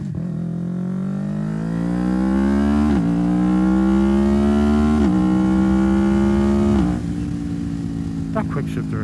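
A Yamaha YZF-R3 motorcycle, 2025 model, pulls hard toward highway speed, its engine note climbing steadily through gears with quick shifts at intervals, loud and close throughout.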